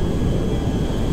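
A Boeing 747 jumbo jet cruises in GTA V, a steady, loud, broadband engine drone with a deep low rumble and no breaks or talk.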